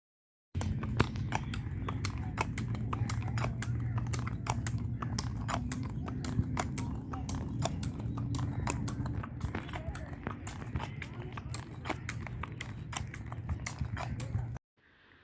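Horse hooves clip-clop in a steady rhythm during a ride in a park in Rawalpindi, close and continuous over a low rumbling background, ending abruptly.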